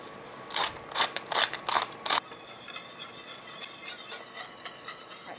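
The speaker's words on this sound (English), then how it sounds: "Give this a stir." A spoon scrapes around a pot of simmering seafood enchilada sauce in several quick, distinct strokes, then gives way to a soft, steady sizzle and bubbling.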